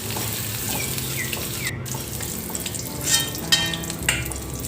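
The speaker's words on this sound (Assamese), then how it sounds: "দেখিছে কঁঠালখিনি কি ধুনীয়াকৈ ভাজি হৈ গ'ল" Jackfruit pieces frying in a pan give a steady close sizzle with faint stirring scrapes, a few louder crackles near the end, no voices.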